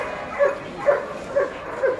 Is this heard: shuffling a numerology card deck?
no